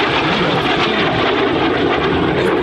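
An Frecce Tricolori MB-339 jet flies past at the New York Airshow 2024, its engine giving a loud, continuous roar that stays steady and close throughout, with no speech.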